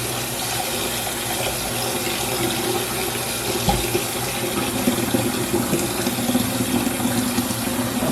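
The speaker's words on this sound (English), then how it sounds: "I'm going to fill this pot back up with water and let them sit in cold water" Cold water runs from a kitchen tap into a pot of fresh garden green beans, a steady loud splashing rush that holds throughout with no voices.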